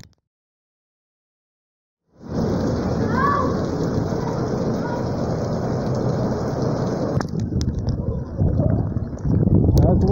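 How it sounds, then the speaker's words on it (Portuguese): After a couple of seconds of silence, rain abruptly begins to fall. It becomes a dense, steady hiss of heavy rainfall that stays loud and even to the end. "Na hora que eu tô treinando, começa a chover."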